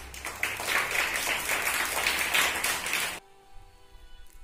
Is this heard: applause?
yes